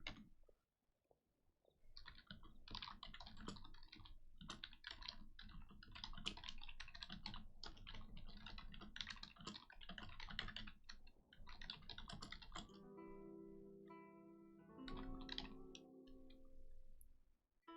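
Rapid clattering on a computer keyboard fills a quiet room, steady bursts of close, crisp key taps for several seconds before slowing, with a faint tonal sound rising near the end.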